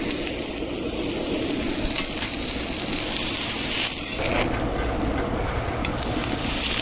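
Food sizzles steadily on a Mojoe griddle, surf and turf with panko coating cooking in a little oil, a continuous close hiss of frying with no talking.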